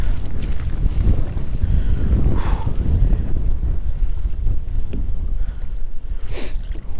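Wind gusts over open water during a kayak fishing tournament, a loud continuous buffeting rush against the microphone with low rumble and faint water noise beneath it, and no voices.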